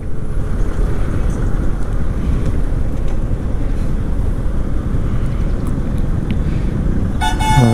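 Highway traffic sits jammed, with a constant rumble of engines and wind buffeting close by; near the end a car horn blares in a short burst of toots.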